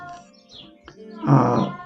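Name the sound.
cat meowing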